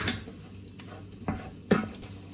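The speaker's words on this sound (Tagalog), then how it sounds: "Piniprito ko lang to saglit." Batchoy ingredients fry briefly in plenty of oil, giving a soft, steady sizzle punctuated by a few sharp clinks and scrapes of a utensil against the pan.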